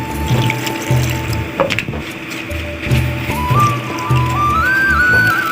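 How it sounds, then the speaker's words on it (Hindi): Water splashes and trickles steadily into a pot, with a continuous watery rush and faint clatter nearby; no talking. "हल्का सा पानी डाल दिया"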